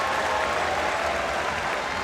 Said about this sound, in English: from the crowd here in Cebu.